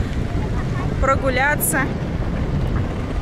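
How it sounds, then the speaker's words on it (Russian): A cool breeze blowing across a city square in Uralsk, a low, steady rumble of wind on the microphone throughout, with a person speaking briefly in the middle. "Ветерок такой прохладный дует."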